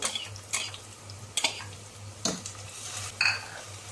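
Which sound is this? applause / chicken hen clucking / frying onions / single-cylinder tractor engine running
frying onions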